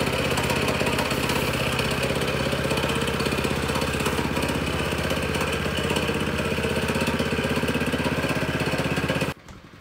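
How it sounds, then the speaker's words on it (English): A roller compactor's engine runs at a low, steady idle while vibrating sand into the joints of a porcelain patio on an open graded base, humming continuously and close before cutting off abruptly at the very end. "So the vibration from the machine's engine at a low idle can accomplish this for us."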